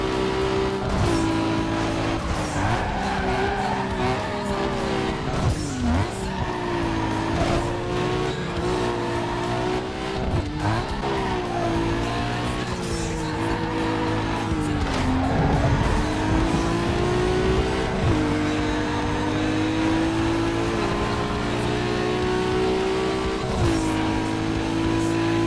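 Nissan Skyline race car in Need for Speed Underground 2, a loud steady engine drone rising and falling through gear shifts over a long stretch, with brief tire squeals and skids.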